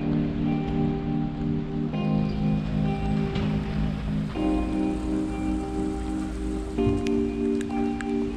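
Rain falls steadily over the old town of Ljubljana, a continuous close hiss of drops on surfaces with sustained tonal hum layered beneath, and no one speaking.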